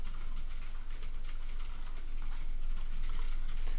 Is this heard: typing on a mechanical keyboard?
yes